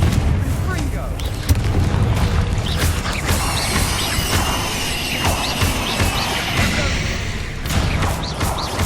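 Confringo blasting spells exploding in Hogwarts Legacy, loud booms and crackling bursts over a dense, continuous roar of game effects and music, with brief character voices mixed in.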